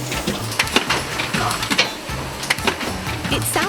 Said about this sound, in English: I love the sound of the lids being glued down onto the pots